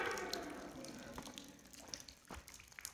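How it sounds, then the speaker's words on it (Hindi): Water dripping from the ceiling inside the Pandavleni rock-cut cave near Mahurgad: a few sparse, faint drips and taps scattered over a soft, hollow ambient wash. "ऊपर से पानी भी टपक रहा है"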